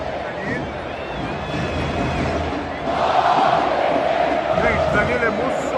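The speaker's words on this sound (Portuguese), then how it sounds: "Torcida do Flamengo" Flamengo football supporters chant together in a packed stadium, a dense, steady roar of many voices that swells louder halfway through, heard from within the crowd.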